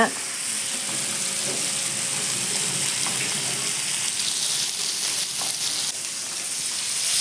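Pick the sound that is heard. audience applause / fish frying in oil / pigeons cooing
fish frying in oil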